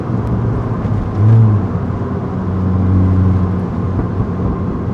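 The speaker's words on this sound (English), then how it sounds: "that supercharger noise is crazy. It's so much louder." A supercharged Mini engine hums steadily with a whirring supercharger whine, swelling briefly twice as it revs, heard from inside at a constant moderate level.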